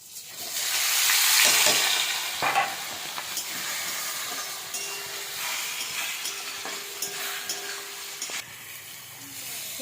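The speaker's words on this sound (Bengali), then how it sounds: "এবারে এই মশলাগুলো সব একসাথে তেলের মধ্যে দিয়ে দেবো।" Spices, chopped tomato and chillies frying in hot oil with a loud hiss and sizzle, being stirred now and then.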